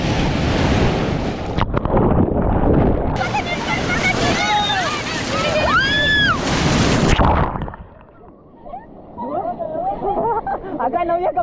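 Sea waves roll in at Tannirbhavi Beach in Mangalore, a broad surf roar with heavy wind buffeting the microphone, while voices and shouts carry over the water before the sound thins and quietens.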